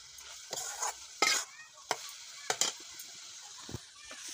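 Potato and eggplant go into a pan of frying spinach, bringing sharp bursts of sizzling and scraping stirs, several quick loud spits separated by quieter crackling, close by and without talk.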